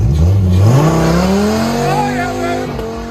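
A Dodge Viper V10 engine revs up and holds a rising, raspy howl close by, the pitch climbing steadily for about three seconds before easing slightly at the end.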